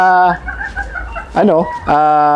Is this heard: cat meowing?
no